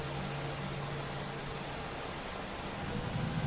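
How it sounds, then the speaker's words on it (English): Airbus A320 jet engine running in the Aerosoft flight simulator, a steady, even roar and whine with a low drone underneath, holding constant with no voices. "So we can see the engine starting to stabilise."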